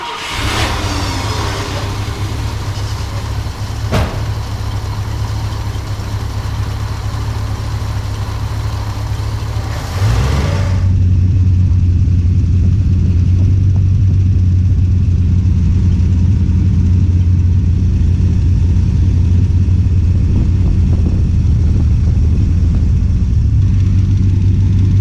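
A barn-find 1966 Ford Thunderbird V8, run after sitting 32 years, idles with a steady low rumble that shifts into a louder, deeper drone partway through, running continuously with no talk.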